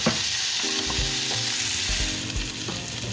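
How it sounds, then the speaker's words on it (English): Vegetables sautéing in a pan with oil and butter, a continuous close sizzle and crackle broken by a few clunks and scrapes of stirring, with no talking. "You just want to kind of just saute them till they get nice and soft, sandwich soft."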